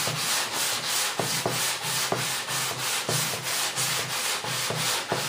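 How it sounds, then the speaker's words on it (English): Guide-coated paint on a car body is sanded by hand in regular back-and-forth strokes, about three rasping passes per second, close and steady with no talking. "Gotta get back to sanding."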